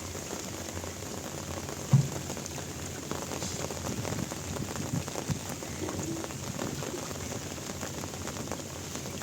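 Heavy rain falling over the Padma river: a steady, even hiss of dense drops, constant and moderately loud throughout, with no talk.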